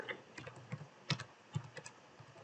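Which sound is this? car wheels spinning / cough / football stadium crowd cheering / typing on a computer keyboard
typing on a computer keyboard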